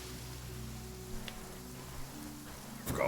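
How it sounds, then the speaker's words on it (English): Steady rain in the Genshin Impact video game, a soft continuous patter beneath low droning game ambience, with a brief sharper sound near the end. "Don't stay out in the rain for too long."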